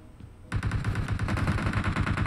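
A rapid burst of automatic gunfire from PUBG Mobile starts abruptly after half a second of quiet and keeps up as a fast, even rattle of close shots to the end, with no talking.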